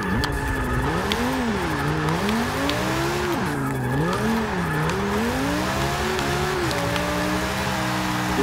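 A 1997 BMW M3 with an all-wheel-drive drift build in the racing game Forza 6, its engine rising and falling through revs under continuous tire squeal as it slides.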